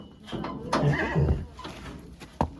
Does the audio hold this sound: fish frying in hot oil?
no